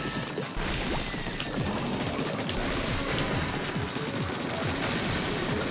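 A dense barrage of missiles and gunfire during the final boss fight of the Splatoon single-player game, rapid crashing bursts and rattling shots packed continuously with no pause, loud and close.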